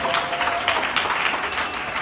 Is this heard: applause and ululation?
yes